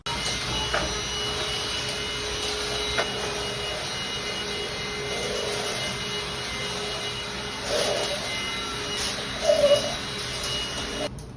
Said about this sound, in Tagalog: best buy talaga itong vacuum na to